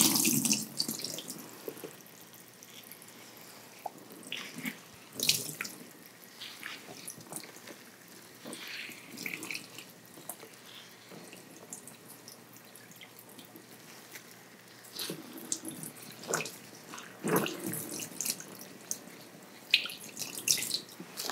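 A tap runs water during an ASMR scalp treatment and shampoo hair wash, a close, soft continuous stream with splashes and drips that swell and fade as hands move through the hair, with no talking.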